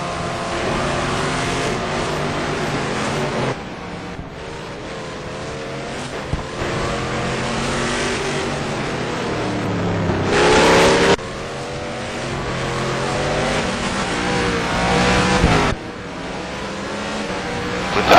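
Touring race cars at the Trois-Rivières street circuit in an STC Blue Cup round roar past, engines rising and falling through gear changes as they power out of a turn, loud and continuous with a sharp nearby pass midway.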